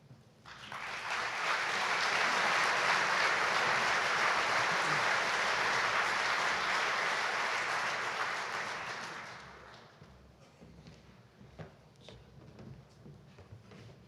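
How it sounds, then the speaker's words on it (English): Dinner guests at the 2019 Eagle Dinner applaud the co-chairmen, a dense sustained round of clapping that swells, holds for about nine seconds, then fades into scattered claps and room noise. "How about another round of applause for our co-chairman?"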